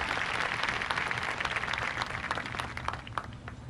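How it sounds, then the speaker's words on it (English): A large audience applauds teachers at a high school graduation ceremony, steady dense clapping from a big crowd that holds evenly throughout and tapers slightly at the end. "Please join me in giving your teachers a round of applause"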